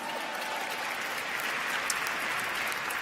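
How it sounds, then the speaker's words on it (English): An audience at the National Book Awards ceremony claps in a soft, distant wash of applause that stays steady and fairly faint throughout. "Yeah, you can applaud."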